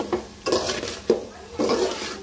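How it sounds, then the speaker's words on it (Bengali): A spoon stirring cabbage in a cooking pot with the lid lifted, a few soft scraping knocks against the metal, quiet and close. "এরপর ঢাকনাটা উঠে একটু পরপর নেড়ে চেড়ে দিব।"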